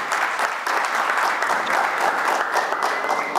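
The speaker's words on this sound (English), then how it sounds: "Round of applause, please." A congregation applauds steadily for a rabbi's introduction at an evening CHAZAQ event, dense and sustained clapping filling the room with no talk over it.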